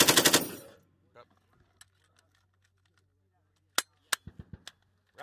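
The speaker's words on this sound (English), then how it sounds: "Weapon is on fire." Military weapon firing on a training range: an opening burst of rapid automatic fire, then quiet, then a string of sharp separate shots and short bursts, loud and close with no talk over them.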